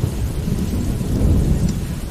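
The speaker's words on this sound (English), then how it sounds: "we have also rain." Rain and thunder in the video game Morrowind: a loud, continuous low rumble of thunder rolls under a steady wash of falling rain, with no voices.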